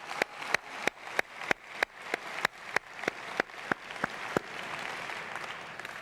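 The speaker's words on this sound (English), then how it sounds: "Let us give Chuck and Dan a warm Urban League round of applause." A conference audience at the National Urban League gives a round of applause, heard as a sequence of sharp, evenly spaced loud claps that dissolve into a diffuse wash of clapping.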